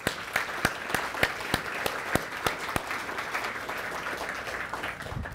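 A small crowd at Apple Valley's 2019 State of the City address claps in steady applause, sharp individual claps standing out over a dense patter that gradually thins.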